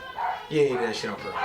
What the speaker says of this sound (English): You will apologize for the barking in the background.